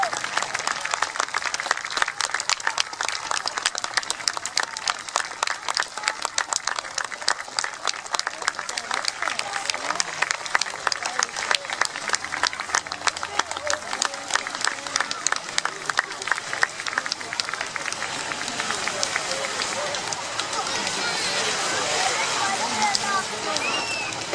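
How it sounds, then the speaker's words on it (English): A large outdoor crowd applauds the lifeboat crew at a seaside lifeboat week demonstration, the dense clapping sustained and loud for a long stretch before easing slightly toward the end. "Let's have a big round of applause for all our lifeboat crew."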